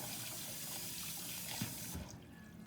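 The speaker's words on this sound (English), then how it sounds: "Let me wash my hands off." A tap runs steadily into a kitchen sink while hands are washed after mixing spicy corn muffin batter, a close splashing hiss that cuts off near the end.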